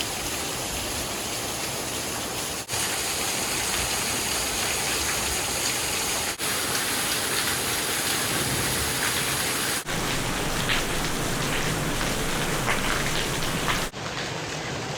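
Heavy rain pours onto a tent at night in a downpour, a dense, loud, unbroken hiss of drumming drops, steady throughout with no voices.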